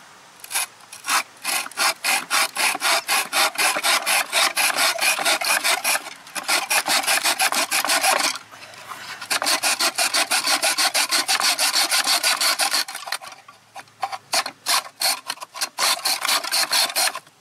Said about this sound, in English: start at a slight angle, rest the saw on the other side of the miter box and then chomp down into it.